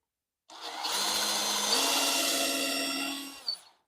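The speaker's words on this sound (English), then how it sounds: "I'm going to drill a little pilot hole in each foot" A power drill bores a pilot hole into a table foot, whirring steadily for about three seconds, a sustained mid-pitched motor drone close by, ending with a short higher whine as it stops.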